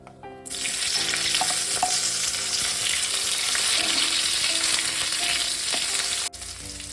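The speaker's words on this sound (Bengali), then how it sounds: "এরপর আমি ক্যাপসিকাম আর টমেটো যেটা কেটে রেখেছিলাম, এটা একসঙ্গে ভেজে নেব।" Loud, steady sizzling of capsicum and tomato frying in a hot pan, with occasional clinks of a spatula stirring; no talking.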